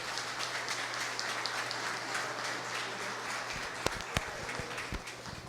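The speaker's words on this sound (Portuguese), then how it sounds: "Uma salva de palmas para Maria Eugênia." Applause at a Câmara ceremony inaugurating a legislative school in Itanhaém, a steady wash of many hands clapping continuously throughout, with a few sharper louder claps standing out near the end.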